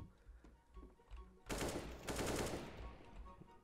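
Automatic gunfire in the video game CS:GO, a dense rapid burst of shots lasting about a second, loud against quieter background game sounds.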